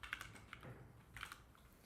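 Keys clatter on a new computer keyboard in quick, uneven bursts of soft clicks, close and fairly quiet, with a pause in the middle and no voices.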